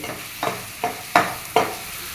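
Prawns cooking in oil for a spicy prawn thokku give a steady sizzle, broken by four evenly spaced stirring scrapes.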